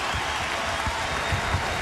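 Basketball crowd at a home college game giving a sustained ovation for a departing 6'11" senior, steady broadband applause with faint low murmur and occasional thumps throughout.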